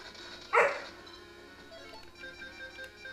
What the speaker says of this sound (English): And that's just my dog. If you heard that.